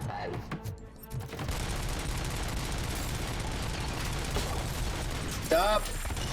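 Rapid gunfire rattles in the RoboCop: Rogue City video game, shots fired at missiles in a dense, continuous burst with mechanical clatter, under a player talking.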